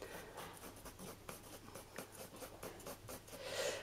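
Colored pencil shading on paper for a milk bottle drawing, a steady soft scratching of quick repeated strokes, close and fairly quiet, with no talking.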